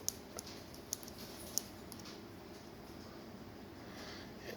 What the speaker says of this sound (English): you're able to type in Morse code using the button